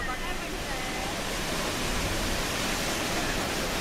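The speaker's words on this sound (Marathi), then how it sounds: "हा मेन हॉर्स शू म्हणजे घोड्याच्या नालीच्या आकाराचा धबधबा" Horseshoe Falls at Niagara Falls roars as a steady, dense wash of falling water, loud and unbroken from start to finish with no pauses or separate events.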